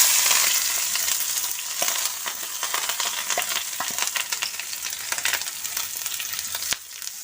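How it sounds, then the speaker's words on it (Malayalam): Grated coconut sizzling in hot oil with asafoetida in a pan for small onion sambar, a steady frying hiss broken by scrapes and taps of the stirring spoon, close and without talk. "ഈ നാളികേരമൊക്കെ മുരിഞ്ഞ് വരുന്ന വരെ നമുക്കിത് ഇളക്കി കൊടുക്കാം."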